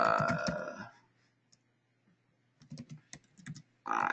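Fast bursts of typing on a computer keyboard during an HVAC energy code webinar, clustered clicks clearly audible between stretches of talk and a quiet pause.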